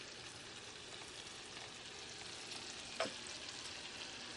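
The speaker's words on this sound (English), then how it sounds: "Let's let that garlic cook for just a minute." Garlic fries in a pan with a faint, steady sizzle, broken once by a short clatter of stirring partway through, with no talking.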